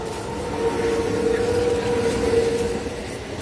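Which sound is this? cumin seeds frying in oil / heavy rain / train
train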